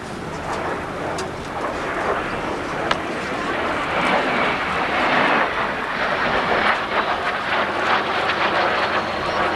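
MiG-15 and F-86 jet fighters flying together in an airshow demonstration over Harlingen, a broad roaring jet rush building in loudness midway and holding steady with wind buffeting, under a faint public-address voice.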